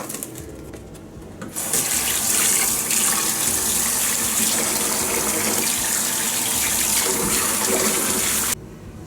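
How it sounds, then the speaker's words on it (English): Tap water runs hard into a kitchen sink while raw beef is washed under it, a steady loud splashing rush that starts suddenly after a quiet moment and cuts off near the end. "For beef fry, I am just washing the beef."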